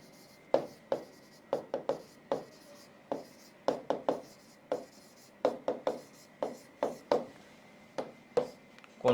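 Pen strokes scratching on paper in quick, irregular bursts, close and fairly quiet, with brief pauses between words and no talking.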